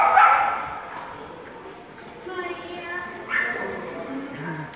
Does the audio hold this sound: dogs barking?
yes